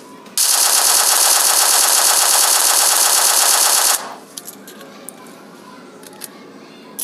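A QBZ assault rifle in PUBG Mobile Lite fires one loud, continuous automatic burst lasting several seconds, then stops abruptly, leaving faint scattered clicks and low background noise.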